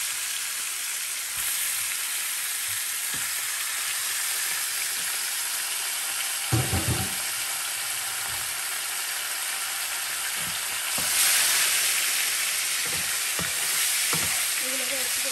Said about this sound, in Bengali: এখন আমি চিকেনগুলোকে একটু ফ্রাই করব